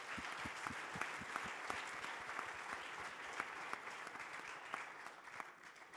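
Audience applause on a French TV sports talk show greeting a boxer, steady dense clapping throughout, moderately distant with a few sharper individual claps standing out.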